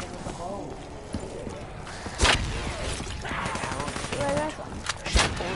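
Two sharp pistol shots ring out a few seconds apart in Black Ops 3 Zombies, each a crisp loud crack over ongoing game noise and someone talking.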